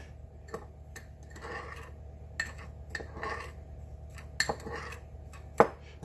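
Ingredients for keto candied pecans are mixed in a bowl, with quiet scraping swishes and sharp utensil clinks against the dish.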